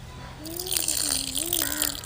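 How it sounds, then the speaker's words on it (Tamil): Water is poured steadily into pounded pearl millet, giving a continuous soft splashing hiss with a faint tonal ring throughout. "இது கணக்காத்தான் ஊற்ற வேணும் தண்ணி."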